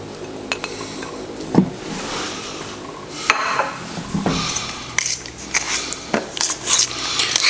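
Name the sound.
kneading butter into Armenian pastry dough by hand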